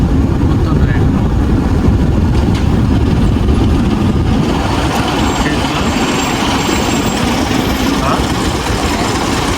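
Heavy road traffic at a signal: a loud, continuous roar of engines, trucks and buses, with a voice faintly mixed into the din.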